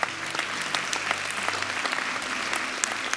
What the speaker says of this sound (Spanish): Adelante, un aplauso a esta señora.